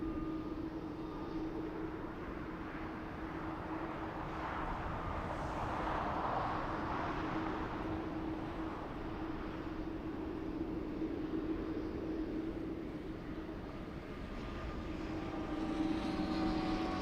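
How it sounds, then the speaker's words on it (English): A distant Saudia airliner taxis and turns onto a taxiway at LAX, its jet engines making a faint, steady low roar and whine with no talk over it. "Saudia in the distance making the right turn on the taxiway Kilo"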